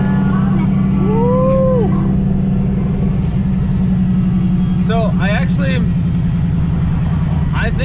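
A turbocharged Pontiac GTO with a built differential drives along, its engine droning in a steady low rumble throughout while someone speaks over it near the microphone.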